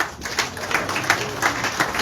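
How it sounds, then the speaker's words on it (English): A crowd at a political rally claps for flag bearers, a short burst of scattered, uneven clapping with no voices over it. "could we please give them a round of applause?"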